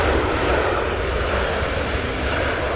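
A 22-year-old Delta Boeing 737-800 arriving at Cincinnati from Fort Lauderdale produces a short, steady, dense jet roar that stays fairly loud and even throughout.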